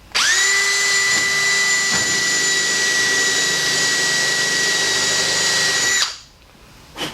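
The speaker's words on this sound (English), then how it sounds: "So right next to that screw, I'm going to drill a new hole." A loud power drill with a countersink bit and 1/8 inch drill whines at a steady high pitch for about six seconds, then spins down and stops, leaving a faint clatter; drilling a new hole for boat rub rail installation.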